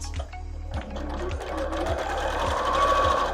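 Sewing machine stitching aligned fabric edges under a quarter-inch foot, a close, steady motor whir with a regular needle thump pulsing about every half second.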